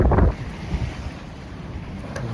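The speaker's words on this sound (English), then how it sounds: "The waves are 1 to 2 feet, not bad. A little wind chop." Wind rushes steadily and waves wash against a sailboat on a brisk passage from Hatchet Bay to Rock Sound, Eleuthera, in 1–2 foot chop and 15–17 knot winds, with a loud splash at the start.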